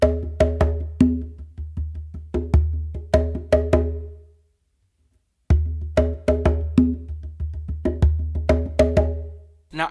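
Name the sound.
bomba/funk pattern played on bongo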